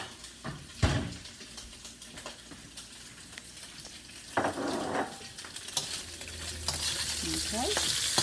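Sausage sizzles steadily in a very hot wok, with loud scraping stirs and clanks of the utensil against the pan over a continuous frying hiss.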